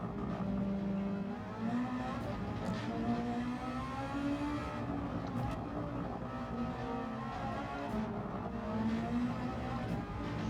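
Race car lapping Fuji in Gran Turismo 7, an engine droning and rising through gear changes, steady and close throughout with no voices.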